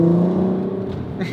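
A VW Golf MK5 R32 accelerating on a road, a brief loud rising engine drone with a strong whine that fades slightly toward the end.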